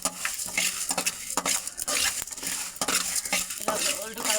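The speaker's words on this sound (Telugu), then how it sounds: "ఆవాలు కూడా చిట్పట్లాడుతున్నాయి, మెంతులు కూడా వేసుకోవాలి." Mustard and fenugreek seeds crackle and splutter in hot oil, with busy metallic stirring and clinks of a spoon against the pan close up, dense and continuous without speech.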